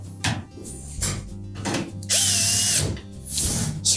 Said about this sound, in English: secure one side with a screw